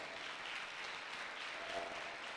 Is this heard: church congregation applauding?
yes